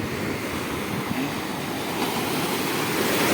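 Sea waves surging and breaking on a shore where fishing nets are hauled, a continuous roaring wash with wind buffeting the microphone, loud and close, no talk.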